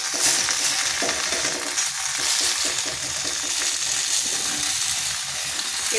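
Batter sizzling and frying on sal leaves in a pan over slow to medium heat, a steady close crackling hiss with faint scraping and handling noises.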